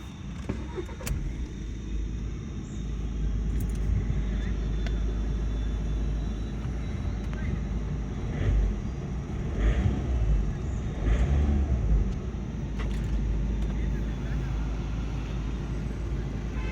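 A 2013 Skoda Rapid 1.6 TDI diesel in the Ambient variant runs with a steady, low engine rumble close by, with slight swells in loudness and faint background sounds.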